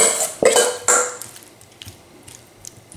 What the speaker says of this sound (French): Je vais mettre un tout petit peu d'huile d'olive dans un tagine en terre cuite. Et je mets mes légumes dans mon tagine.